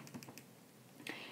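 Calculator keys are pressed while entering numbers for a fraction problem, giving about four light taps in quick succession and then a sharper click, faint and close with no talk.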